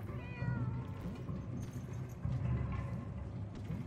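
Cats meow repeatedly in a video game, several short, high mewing calls over a soft low background hum, fairly quiet and with no talk.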